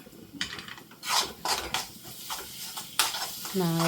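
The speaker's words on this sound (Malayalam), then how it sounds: "ഇടയ്ക്കിടയ്ക്ക് ഇങ്ങനെ ഇളക്കി കൊടുത്തോണ്ടിരിക്കണം" Dried fish powder with chili powder being stirred in a pan, giving repeated scraping, rasping strokes of a utensil against the pan bottom, close and moderately loud, with a brief voice near the end.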